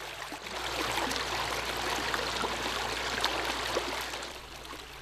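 River water flows steadily past where people wash clothes in a quake-stricken area of Miyagi with a long-running water outage, a constant broadband rush with no voices.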